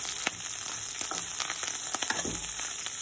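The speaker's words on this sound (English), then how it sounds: "we have to fry this one for 2 to 3 minutes" Kale and coriander fry in a pan, giving a steady, close sizzle with light crackles and a few sharper pops, quiet and uninterrupted by speech.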